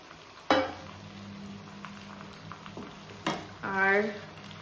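Marinated mutton, chopped tomatoes and onions dropped into hot oil, with a sudden sizzle, stirring scrapes and clinks against the pan, and a voice talking over the cooking.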